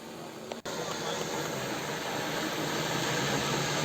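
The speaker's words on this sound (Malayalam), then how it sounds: "ഡ്രോൺ താഴെ ഇറങ്ങും." An agricultural spraying drone flies overhead, giving off a steady, broadband whirring drone with only a slight dip near the start.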